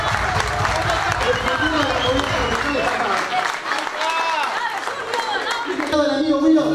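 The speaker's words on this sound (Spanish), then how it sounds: "Con un aplauso la recibimos." Applause from an audience at a live concert, a dense wash of clapping that thins out partway through, loud and close, with a voice speaking over it.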